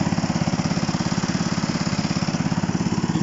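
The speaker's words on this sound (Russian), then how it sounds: "а вот этот вот трактор пробирается туда, где волки срать боятся" A tractor engine chugs through deep snow on a wintry field, a steady rapid pulsing drone that stays close and loud throughout with no other sounds and no voices.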